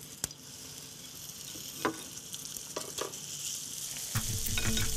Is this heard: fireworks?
no